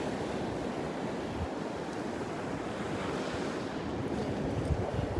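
Gulf surf washes onto the sand at Delnor-Wiggins beach on a morning walk. The waves make a continuous close, broadband rush, with wind buffeting the microphone and no voices.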